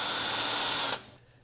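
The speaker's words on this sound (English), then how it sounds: "Switch drill bits and drill out the 1/8 hole to 17/64." A power drill whines loudly and steadily while boring a 17/64-inch hole through metal for a snowboard bracket, then winds down and stops near the end.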